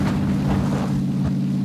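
A vehicle driving in the PUBG video game gives a steady, loud engine drone with a low hum and wind-like rush throughout, with no talk over it.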